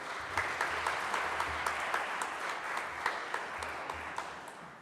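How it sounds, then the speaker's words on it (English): A crowd claps steadily for several seconds at an Eagle Scout Court of Honor, a dense, continuous round of applause with no voices over it. "Joseph Matthews, I want you to give a round of applause to them real quick."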